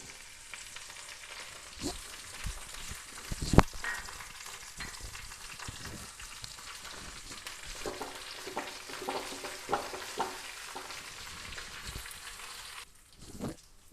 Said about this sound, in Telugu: ఆయిల్ వేసుకున్నాం కదా, ఇప్పుడు పోపు దినుసులు వేసుకుందాం.